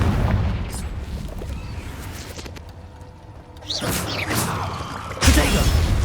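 Confringo blast spells burst in a dark cave in Hogwarts Legacy, two sharp explosive hits with rushing whooshes, the second heavier and booming, over low ambient rumble.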